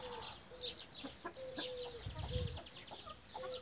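A Brahma rooster clucks in short repeated calls amid other chickens, moderately close over faint farmyard background.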